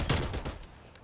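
A TEC-9 submachine gun fires in Call of Duty: Black Ops Cold War, a short, loud, close burst of rapid shots with no talk over it.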